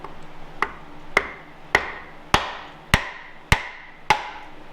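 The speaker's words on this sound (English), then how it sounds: "I'm gonna beat on it with a 2x4 and a hammer." A hammer pounds a 2x4 placed on engine pistons to drive them down the cylinders, landing seven sharp, evenly spaced whacks about half a second apart, each ringing briefly in a quiet space.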